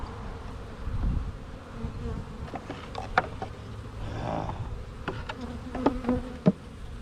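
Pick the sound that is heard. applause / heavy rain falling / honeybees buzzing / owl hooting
honeybees buzzing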